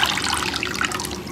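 Water trickling and splashing steadily as it drains from a bowl of soaked sliced potatoes for pakoras, a close, continuous liquid patter.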